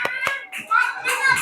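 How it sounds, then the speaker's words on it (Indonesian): Children clap their hands in a classroom with a few quick, sharp claps mixed with children's voices and chatter over a brief moment. "Oke, tepuk tangan."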